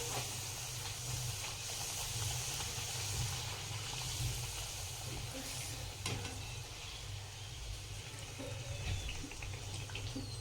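Wheat flour puris frying in hot oil, a continuous close sizzle and hiss that stays steady throughout, with faint stirring clinks and no voices.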